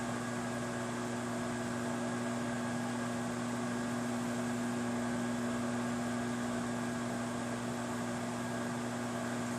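A microwave oven runs steadily while cooking sweet and sour chicken, a constant droning hum with a fan-like hiss, unchanging and alone for the whole stretch.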